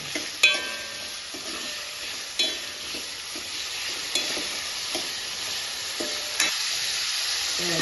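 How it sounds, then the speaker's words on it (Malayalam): Tomatoes and onions sauté in a pan for a prawn curry, a steady close sizzle with a spatula scraping and stirring at intervals, and no one speaking. "ഇതെല്ലാം കൂടിയിട്ട് നല്ലോണം തക്കാളി ഉള്ളിലെല്ലാം നല്ലോണം വഴന്ന് വരട്ടത്."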